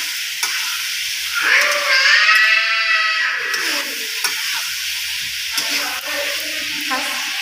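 Mutton curry with turmeric being stirred in a frying pan, a steady sizzle with scraping stir strokes that swell loudly midway, then settle into softer frying crackle with occasional utensil clicks.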